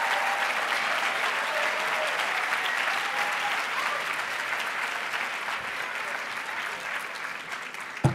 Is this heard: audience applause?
yes